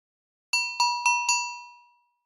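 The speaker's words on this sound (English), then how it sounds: "Here's the same wine glass using our axisymmetric model." Simulated wine glass ringing, synthesized from an axisymmetric finite element model: four clear, bright ding strikes in quick succession, the last one decaying smoothly into silence.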